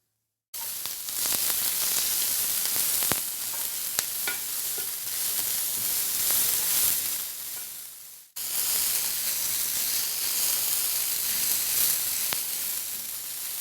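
Chicken pieces for shashlik sticks fry in hot oil with a steady, close, loud sizzle that cuts out briefly partway through and then resumes, with no talking.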